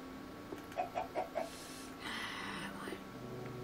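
A Minecraft chicken gives a few short clucks in quick succession, faint against a steady game background with a brief burst of noise afterward.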